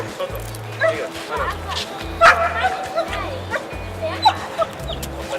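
Barking and yipping from a police canine brigade dog during a demonstration at a school, in repeated short bursts with occasional whimpers, over a busy background.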